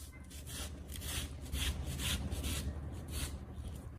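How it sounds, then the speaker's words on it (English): Knife scraping and cutting watermelon flesh away from the rind, a steady close rubbing, rasping sound in repeated strokes with no talk. "First, I completely remove the watermelon flesh from the rind."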